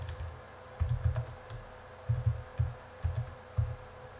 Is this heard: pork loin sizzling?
no